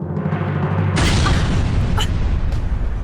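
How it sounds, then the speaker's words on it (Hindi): Explosions boom in a fantasy TV drama scene: a heavy, continuous rumbling blast swells sharply about a second in and stays loud and dense, with brief bright bursts cracking on top. "ये धमाकों की आवाज कहाँ से आ रही है?"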